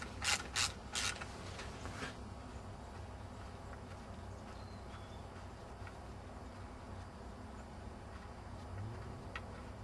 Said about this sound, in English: There's 3 bolts, 1, 2, and 3. They're 10 mil, and we'll take them out now.